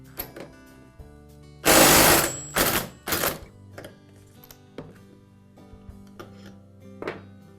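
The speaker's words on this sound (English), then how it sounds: "use my impact to remove it in a clockwise rotation" Impact wrench spinning a clutch off a Poulan chainsaw with a clutch removal tool, heard as three loud close bursts of rattling hammering. Light clicks and handling noises come before and after.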